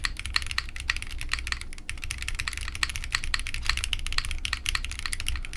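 Rapid, continuous typing on a Carryworks Magnum65 mechanical keyboard, the revolver-themed Magnum design, with dense clicky keystrokes close up and steady throughout, no voices.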